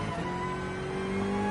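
A race car's engine revs and holds in Gran Turismo Sport, a loud, tonal drone rising slightly in pitch over a brief stretch, with no voices.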